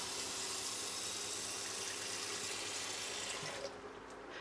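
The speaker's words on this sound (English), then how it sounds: "we're going to put about 1 inch of cold water into" Cold water pours from a tap into a pot, a steady hissing gush that eases slightly near the end, with no voices.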